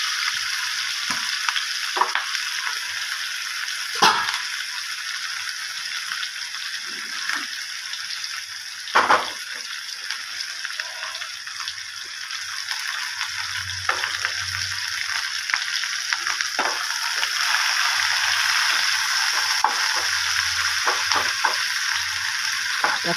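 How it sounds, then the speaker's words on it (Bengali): Chopped onion sizzles in hot oil in a pan for a Bengali fish-head curry, with a steady frying hiss and repeated scraping strokes of stirring, plus a few louder clatters. "পেঁয়াজ কুচিটা নেড়ে ভাজা হয়ে গেলে পরে হয়নি"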